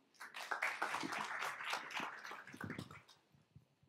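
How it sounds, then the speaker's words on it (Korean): Audience applause at a healthcare business forum as a speaker is welcomed, a faint, fairly close patter of clapping from a modest group that swells and then thins out over about four seconds. "박수로 모실게요."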